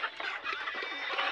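Chickens on a poultry farm, kept in a shed sealed with plastic against the cold, cluck in a dense, continuous flock chatter that stays close and fairly loud for the whole moment.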